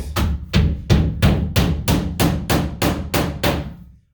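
Long drywall nails are driven with a hammer in a steady run of about ten sharp, loud blows evenly spaced, each ringing briefly, with no talk.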